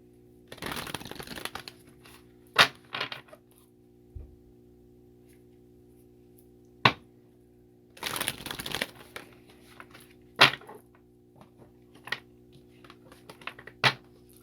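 Starseed Oracle cards being shuffled, short bursts of riffling and crinkly card noise separated by quiet gaps and sharp taps, close and soft with no talking.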